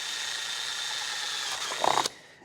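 A drill bit spins against sheet metal without biting in, giving a steady, moderately loud whine with faint high squeals that ends in a brief louder grinding burst before cutting off.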